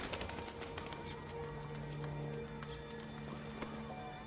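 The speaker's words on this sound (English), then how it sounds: "Oh, pigeons." Pigeons flap their wings in the video game Detroit: Become Human, producing a flurry of quick fluttering beats over a low ambient game drone. The flapping is densest at the start and fades into scattered softer flutters.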